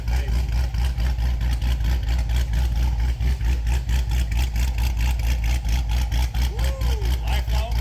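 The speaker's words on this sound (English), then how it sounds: "Wait till you hear it out back when it starts chopping real good." A cammed car engine idles with a steady, choppy lope, loud and close, with a rhythmic pulsing beat and a voice speaking over it.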